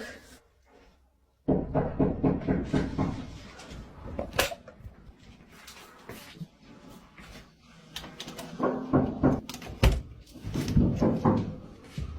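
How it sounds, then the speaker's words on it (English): Knocking on a door late at night: after a near-silent opening, clusters of dull, repeated knocks and thuds come in irregular bursts, fairly close and loud in a quiet house, with no talking. "she hears what sounds like knocking at the door and decides to record it"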